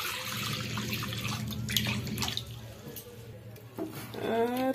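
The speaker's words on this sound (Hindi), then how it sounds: "अभी थोड़ा सा पानी दे देंगे।" Water is poured into a kadhai wok set up for cooking jackfruit, a moderately loud splashing pour over low hum, with a voice briefly audible near the end.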